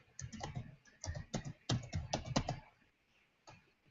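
Bursts of computer keyboard typing, quick rapid clicks in several clusters with short pauses between, close and clear in a quiet room, ending with a lone keystroke after a brief gap.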